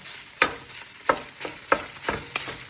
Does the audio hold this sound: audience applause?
no